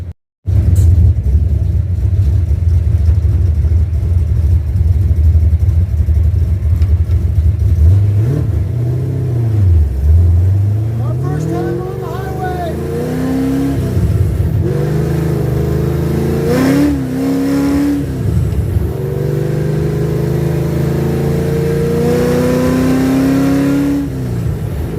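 Car engine parked since 1999 on its first drive in 27 years, pulling under load without full throttle: a loud, continuous engine drone with rising and falling revs, several climbing pulls and a few sharp bursts, no talk.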